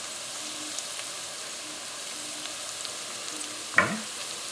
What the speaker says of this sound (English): onions and fennel are cooking nicely